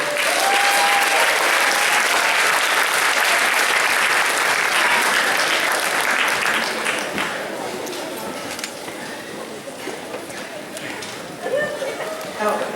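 Sustained applause fills a school auditorium at an eighth grade graduation ceremony, dense clapping from a large audience that gradually thins and fades toward the end.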